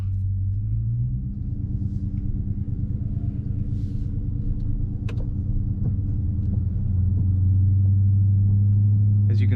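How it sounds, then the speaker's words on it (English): A 2022 Dodge Charger Scat Pack in eco mode, heard from inside while driving, gives a loud, steady low engine and exhaust rumble that deepens and swells toward the end, with a few faint clicks over it. "the car is very, very loud in eco mode"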